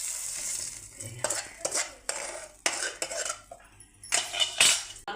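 Brinjal and okra being fried lightly in oil in a pan, with repeated clanks and scrapes of a spoon stirring against the metal over a soft sizzle, in close uneven bursts.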